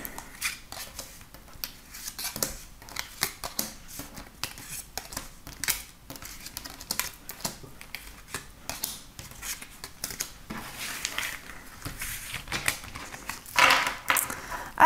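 Tarot cards are shuffled and drawn by hand, giving a continuous run of soft, close-up flicks, riffles and papery snaps with small swells of rustling, no voice over them.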